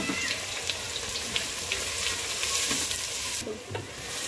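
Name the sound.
onions frying in oil until golden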